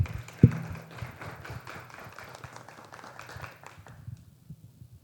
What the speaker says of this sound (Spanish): acompáñenme a darle un aplauso de bienvenida a Jessica